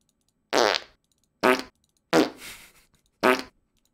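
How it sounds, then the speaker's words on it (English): A character in the video game The Movies makes a cartoonish fart noise as she moves back and forth, four short separate blasts spaced evenly, loud and alone. "she does a fart noise when she moves back and forth"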